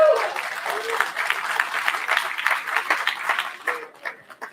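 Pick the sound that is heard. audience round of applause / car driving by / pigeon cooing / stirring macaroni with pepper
audience round of applause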